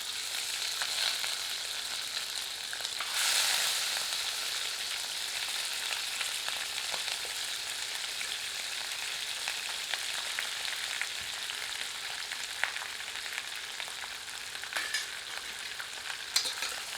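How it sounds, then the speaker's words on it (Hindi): Pieces of goat mutton, shanks and chops, frying in oil over high heat, giving a loud, constant dense sizzle with occasional ladle scrapes and clicks, without talk. "इन्हें इस तेल में भूनते हैं। आंच तीव्र रखते हैं और कड़छी चलाते रहते हैं ताकि सारे टुकड़े समान रूप से भुनें।"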